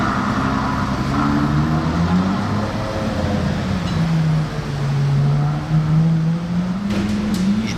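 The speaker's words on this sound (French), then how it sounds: "cette GT3 n'est pas d'origine niveau ligne d'échappement parce qu'elle a fait pas mal de bruit là d'un coup" A Porsche GT3 with an aftermarket exhaust line drones past, its engine note rising and falling over a constant street rumble, loud and close.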